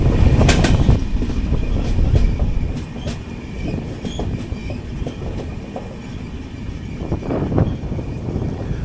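The Mangala Lakshadweep Express rolls along double-tracked Konkan Railway near Veer station, a loud steady rumble with rhythmic clickety-clack of wheels over rail joints and occasional squeals, heard from on board.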